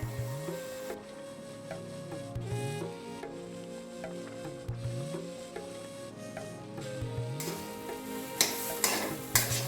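Semolina being stirred into boiling salted water in a pot, the spoon scraping in steady repeated strokes to work it into a stiff dough, with a louder sizzling rush near the end; no one speaks.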